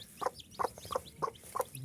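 Small native chicken chicks, newly hatched, chirping and peeping in short repeated bursts, close by, with a few quieter calls in between.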